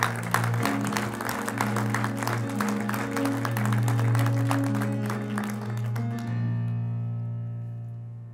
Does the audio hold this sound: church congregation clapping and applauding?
yes